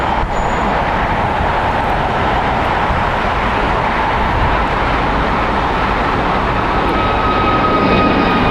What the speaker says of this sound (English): Departing is Alaska Airlines Flight 440 going to Cancun. It is an Airbus A321neo, 5 years old.